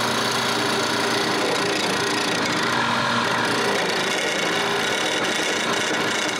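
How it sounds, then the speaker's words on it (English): A random-orbit sander running in Rotex mode with an interface pad on a wooden dog treat bowl, giving a steady, close, continuous whir with a broad hiss that holds level throughout, with no talk over it. "I use an interface pad and my sander on Rotex mode"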